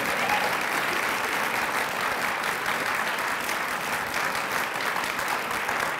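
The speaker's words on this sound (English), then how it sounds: "How about a round of applause for Karl?" Sustained applause from a lecture audience at a university research lecture fills the room, steady and full throughout with no break or speech.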